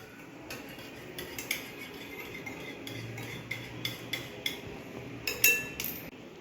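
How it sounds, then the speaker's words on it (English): A spoon stirs mug cake batter in a mug, a quiet series of close, regular clinks and taps against the sides, alone without talk. "Now let us mix it."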